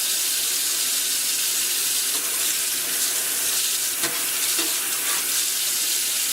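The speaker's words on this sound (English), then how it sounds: "So once your water heats up, you're going to take your sponge and put some dish soap on it." Kitchen tap water running in a steady, loud broadband rush while a kitchen knife is washed at the sink, with a few faint clinks underneath and no talk.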